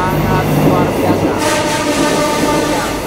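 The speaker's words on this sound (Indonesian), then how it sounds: "kereta feeder yang sudah terintegrasi dengan KCJB saat ini sudah melewati stasiun kereta api Cimindi" A feeder train linked to the Jakarta-Bandung high-speed rail rumbles past close by at Cimindi station, with a steady loud roar of wheels on rails and a brighter rush of noise partway through.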